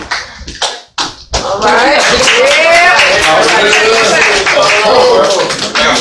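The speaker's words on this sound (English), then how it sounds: "We're going to let him get a round of applause." A crowd at a video release party applauds a guest, dense clapping swelling after brief speech and thumps, then holding loud and sustained with cheers mixed in.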